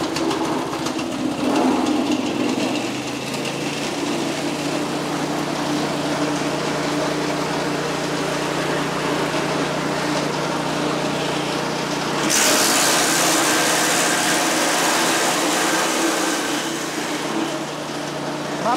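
A heavy-duty shredder machine for livestock fodder runs with a loud, steady motor whine and grinding drone, then grows harsher partway through as material is fed in.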